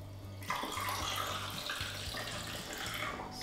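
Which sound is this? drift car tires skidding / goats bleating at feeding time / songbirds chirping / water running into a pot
water running into a pot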